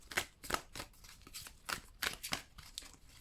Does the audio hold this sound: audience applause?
no